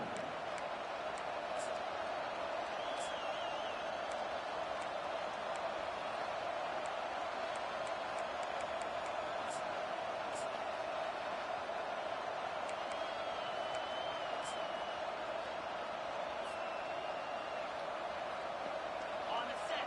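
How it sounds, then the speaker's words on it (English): Loud, steady roar of a big stadium crowd at a Notre Dame vs UCLA game, sustained throughout with occasional whistles and sharp cheers rising above the din. "This crowd bringing the energy and noise early."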